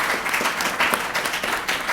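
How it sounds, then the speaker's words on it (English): A room full of people at a panel discussion claps together in a brief, steady round of applause. "let's give the panel members a round of applause"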